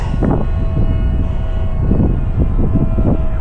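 A homemade RC airplane flies under joystick control, giving a steady, loud motor drone with a faint tonal whine and gusty, wind-like surges rising and falling throughout.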